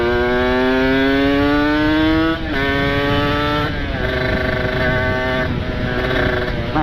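Motorcycle with a ported engine and aftermarket exhaust accelerating hard, its loud rising engine note climbing through several gear shifts, continuous and close with no voices.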